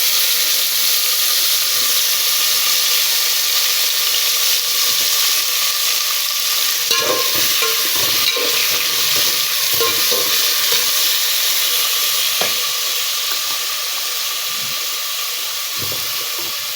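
Tomatoes fry in hot ghee with chilies, giving a loud steady sizzle with occasional scraping stirs and soft pops, close up and without talk.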